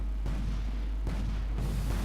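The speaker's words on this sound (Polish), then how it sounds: "Jaki wybuch!" Heavy, rumbling explosions boom repeatedly in the video game Toy Soldiers: Complete, loud and dense over a constant low drone, with no voices.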